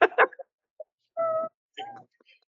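A cat lets out a drawn-out meow followed by a shorter second one, clear and close, after a few brief bits of speech.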